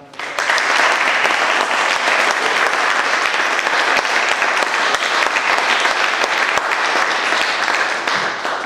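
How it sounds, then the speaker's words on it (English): Sustained, loud applause from a concert audience after a choir's performance at a college fall choral ensemble concert, a dense even wash of many hands clapping steadily throughout with no break. "Let's have another round of applause."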